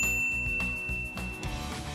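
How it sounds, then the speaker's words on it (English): A short notification bell dings, a bright clear chime with a ringing tail, heard alone over about two seconds. "ring the bell to get notified about our latest videos"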